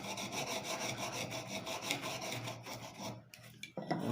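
Wood or MDF board is cut by hand without an electric saw, producing a steady, close, rasping scrape in continuous back-and-forth strokes that thins out and stops near the end.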